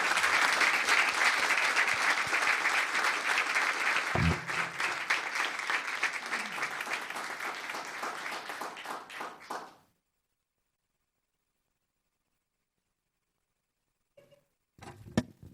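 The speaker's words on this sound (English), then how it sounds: "love to just get a round of applause for these people" Sustained applause from an audience at a Los Gatos town council meeting, a steady wash of many clapping hands that fades out around ten seconds, followed by silence and a few faint taps.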